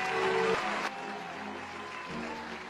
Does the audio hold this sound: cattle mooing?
no